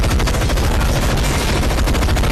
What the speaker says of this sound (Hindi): उन लोगों पर अंधाधुंध फायरिंग शुरू कर दी।